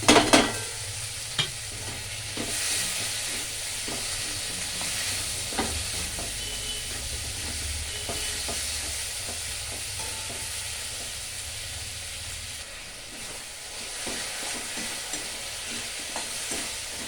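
Spice paste frying in a pan for a tangra fish curry, a continuous soft sizzle broken by repeated scraping and clinking as a spoon stirs it.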